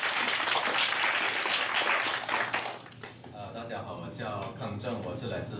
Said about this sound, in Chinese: 下面一位朋友是马来西亚的康正，掌声欢迎。